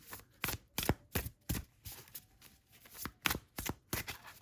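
A deck of oracle cards shuffled over and over for a pick-a-card reading: steady, rhythmic papery slaps and riffles, close and clear, with no talking.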